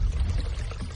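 Water poured to lubricate a path of wooden rails over which huge stone blocks are towed on sledges up a ramp, a steady, full continuous pour with no voices.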